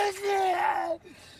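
A man in the 2007 film Crows Zero shouts his last words, a single strained, drawn-out yell lasting about a second before cutting off abruptly into near silence.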